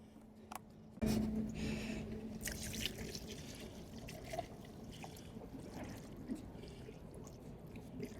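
A gasoline and diesel fuel mixture is poured out of a container in a steady trickling stream that starts suddenly and continues, faint and close, with no talk over it.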